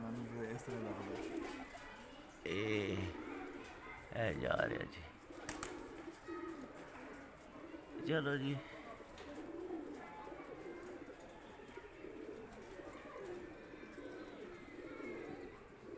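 Pigeons coo softly on a home rooftop in Islamabad, faint and intermittent, while someone speaks at intervals.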